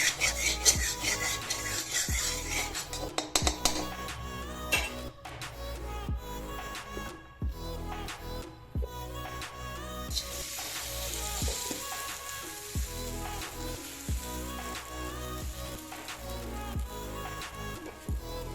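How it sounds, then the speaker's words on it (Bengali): A vegetable paratha fries in a little oil in a pan, giving a steady close sizzle throughout with intermittent scraping and clinks of a spatula against the pan, no voices. "এবার এটা আমি কিভাবে ভাজছি সেটা আপনাদের কাছে এবার দেখাচ্ছি।"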